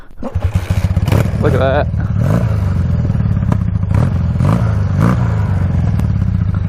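A Honda trike motorcycle engine idles close by in a steady, loud chugging rumble with some clattering knocks, while someone speaks briefly over it.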